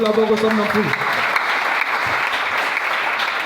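A church congregation at a Sunday service breaks into steady, close applause that fills the room, with a brief sung or spoken voice fading out at the start.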